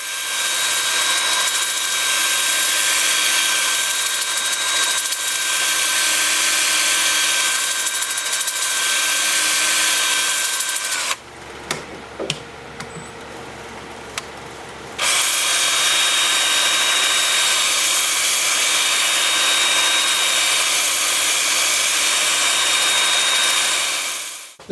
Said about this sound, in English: I'm going to have the lathe spinning forward and reverse, alternating, and I have it spinning at about 400 RPM.